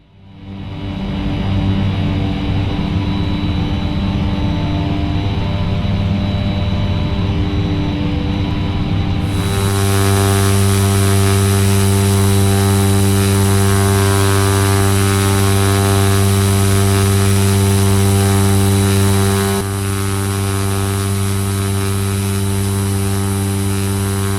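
Aircraft engine in the X-Plane flight simulator, a steady loud drone that builds up and shifts to a higher, stronger roar partway through, continuing without voices.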